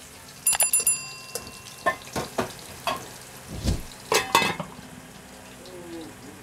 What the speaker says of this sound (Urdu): اس کو فرائی ہونے دیں.